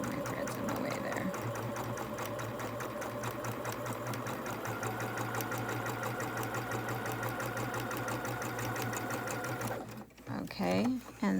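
A sewing machine stitches a quarter-inch seam, running as a steady, close mechanical whir with a fast needle rhythm for about ten seconds. It then stops, and a voice briefly follows.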